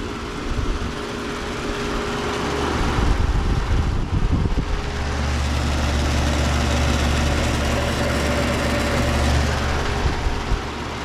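An old central air conditioner or heat pump, likely with a Bristol compressor, runs steadily outdoors with a low droning hum and fan noise, plus some wind buffeting the microphone.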